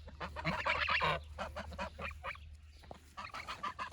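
Geese honking repeatedly in a small backyard paddock, loud and close, in bursts of nasal calls that pause briefly and then resume.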